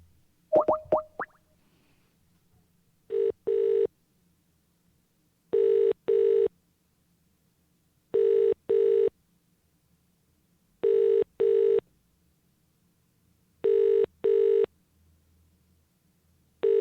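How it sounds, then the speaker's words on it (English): A telephone rings out on a call being placed, with a few clicks at the start and then a regular double-burst ring tone repeating five times at even intervals, clear and isolated against near silence. "Should we phone the number and see what happens?"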